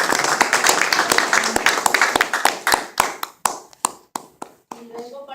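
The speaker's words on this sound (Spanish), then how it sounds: "para la cual pido un aplauso" Congregation members at a prayer ministry servers' meeting applaud, starting as a thick burst of clapping that thins into separate, sharp claps and dies out, with a voice talking near the end.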